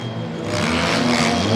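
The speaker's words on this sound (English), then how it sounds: "the 22X car speeds right by" A dirt race car at the Upperco Fall Fest dirt race roars past up close, a loud, rising engine drone with gritty rumble that swells over the short burst.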